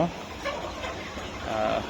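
Tiger-breed hens and a rooster clucking in short, soft bursts close by, mixed with a voice talking over them through most of the moment.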